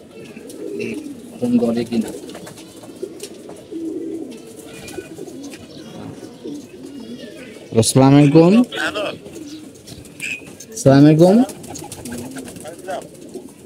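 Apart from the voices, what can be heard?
pigeons cooing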